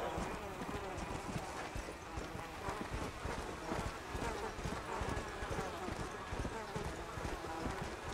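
In Red Dead Redemption: Undead Nightmare, a ridden horse's hooves clop in a rapid, continuous gallop under faint ambient noise, with a voice talking at times over it.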